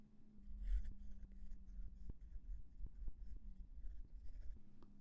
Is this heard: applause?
no